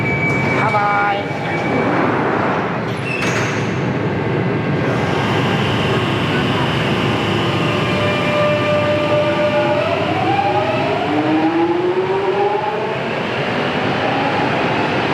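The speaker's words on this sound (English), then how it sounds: "we're watching the train go" A train in London rumbles past loudly with a steady roar and clatter, metallic squeals sliding in pitch as it moves; a brief horn-like tone sounds near the start.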